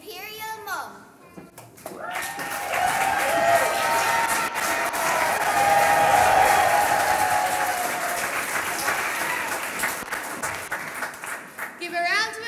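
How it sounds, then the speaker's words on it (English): Warm applause from a school audience at a Kiltiernan National School pantomime of The Emperor's New Clothes swells into steady, dense clapping that lasts about nine seconds, with an announcer's voice briefly before and after. "A big round of applause for the imperial mum."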